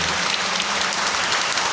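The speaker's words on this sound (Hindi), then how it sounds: "हम लोग ताली मार करके इन दोनों को नए जीवन के लिए बधाई देंगे।" A crowd of guests applauds a newly married couple at an Indian wedding: dense, continuous clapping from many hands, fairly loud and close, with no talk over it.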